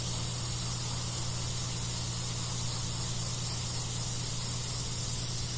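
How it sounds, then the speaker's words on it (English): Steady airbrush air hiss blowing over fresh UV body paint to dry it, a continuous close broadband rush with a low hum beneath, unbroken for several seconds. "I'm just going to use the air from the airbrush to kind of blow on it"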